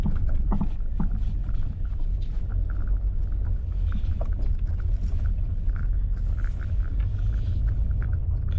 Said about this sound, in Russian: Как звучит, я ямки проезжаю.